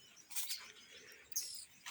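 Faint, distant chirps and short song phrases from a red-cowled cardinal (galo de campina) outdoors in cool air, two brief bursts of bird calls over quiet background.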